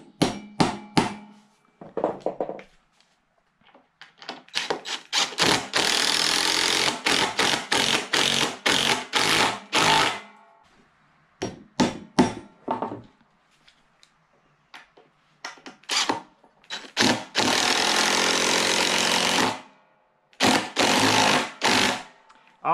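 GRK structural screws are power-driven into the wood of a DIY farm wagon, with several loud rapid hammering bursts of an impact driver, each a few seconds long, separated by silences and a few light taps.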